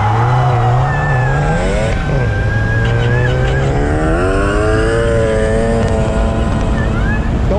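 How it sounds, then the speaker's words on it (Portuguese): A supercharged Chevrolet Suburban engine accelerates hard, its pitch climbing in long sweeps while a thin, high supercharger whine rises and falls above the roar. "Quando você acelera, você ouve só o assobio do supercharger."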